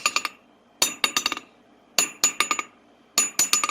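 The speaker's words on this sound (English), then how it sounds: "it's not really ideal to hit the anvil's face with the face of the hammer" A hammer strikes the face of an old anvil being restored, ringing metallic blows in three quick bursts of bouncing taps with bright sustained ring, close and loud with silence between bursts.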